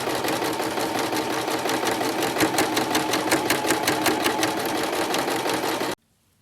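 A sewing machine runs steadily, stitching long basting stitches along the fly zip of a pair of pants. It is a continuous, fast rhythmic clatter at close range, which stops abruptly near the end.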